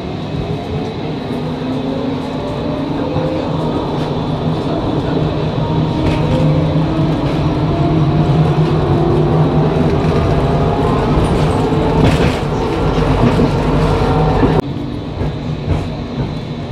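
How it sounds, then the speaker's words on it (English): Ambience inside Zagreb's city train station in Croatia, with a steady loud rumble of rail traffic and machinery, faint clanks and hiss overhead, and a sudden drop in noise near the end. No one speaks. "This is the train station of the city Zagreb."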